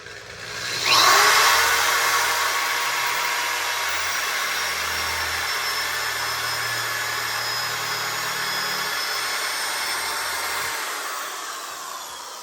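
A power drill whirs steadily for about ten seconds, drilling a hole while installing cabinets, starting abruptly and holding a constant high-pitched drone before cutting out, with no talking.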